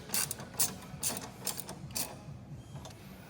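Ratcheting clicks from bolts being snugged up on a Kawasaki KRX 1000 sport front bumper during installation, several short bursts in a steady rhythm, close and moderately quiet, with no talking.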